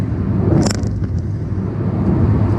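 A car drives through a road tunnel, giving off a steady, loud rumble of engine and road noise throughout, with a brief airy swish near the start.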